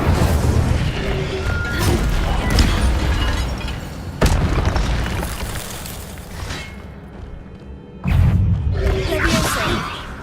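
Incendio fire spell blasts in Hogwarts Legacy, loud whooshing booms with sudden sharp onsets, at least three bursts that each roar and then fade.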